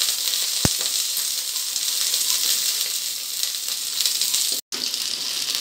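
Onion, ginger and garlic sauté in a pan with a steady, bright, close sizzle. A single utensil tap comes early, and the sound cuts out briefly near the end before the frying hiss resumes.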